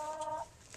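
Backyard chickens cluck close by in a short, soft burst of tonal calls that trails off into faint scratching and movement.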